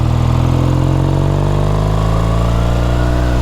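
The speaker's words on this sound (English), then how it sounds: "Nothing like a classic Bonneville, huh?" A 1969 Triumph T120R Bonneville motorcycle in excellent condition idles close by, a loud, steady, throbbing engine note with an even lope and no voices over it.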